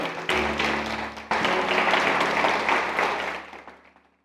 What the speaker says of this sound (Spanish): ¿Hay alguien que quiera aplaudir?